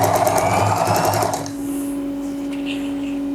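A sewing machine runs loudly and steadily for over a second while stitching the box pleat of winter trousers, then stops, leaving a faint hum.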